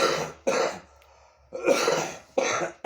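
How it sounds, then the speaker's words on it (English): Several harsh coughs in quick bursts, close by, separated by brief quiet gaps. "Sorry, I got coughed over here."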